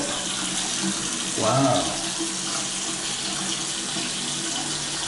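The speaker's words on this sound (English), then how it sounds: "let's turn on the hot water" Hot water runs from a bathroom faucet in a steady, close hiss throughout, with a short spoken exclamation partway through.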